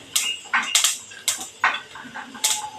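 Sharp, irregular pops and crackles burst out one after another, close by, as mustard and cumin seeds spit in hot oil.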